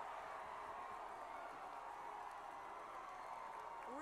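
Football fans in the stands cheer and applaud at a high school game, a steady, fairly faint crowd wash that holds evenly throughout.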